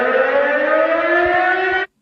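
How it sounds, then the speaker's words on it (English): A civil defense emergency alert siren wails at a steady, loud pitch for nearly two seconds, then cuts off abruptly into silence. "Okay, that's a normal siren."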